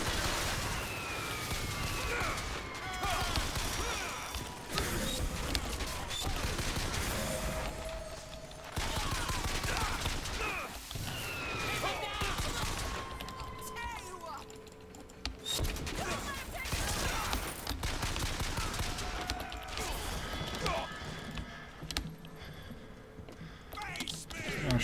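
A gunfight in a 1999-era video game, with bursts of gunfire and clattering shots spread across the clip, partly under a voice talking.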